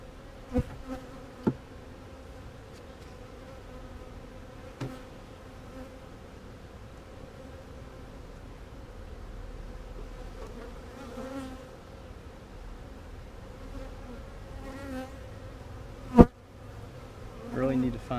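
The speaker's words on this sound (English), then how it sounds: "There's a new bee right there." Honeybees buzzing steadily around an open hive during a spring beehive inspection on a farm, a dense continuous drone close by, with occasional sharp knocks of handling equipment and brief quiet voices.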